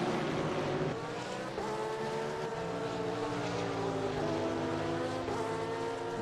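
A Mercedes GT3 race car in a sim race at Suzuka Circuit, its engine note droning steadily and shifting pitch under braking, close and continuous with other cars' engines layered together and no voices.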